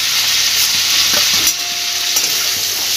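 Prawns and boiled young jackfruit fry in oil, giving a loud, dense, continuous sizzle with occasional stirring scrapes and no voices.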